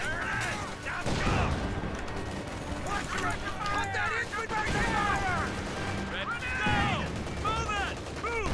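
Machine gun fire in the real-time strategy game Company of Heroes 2, with rattling bursts and explosions mixed into a dense battle soundscape, under voices talking throughout.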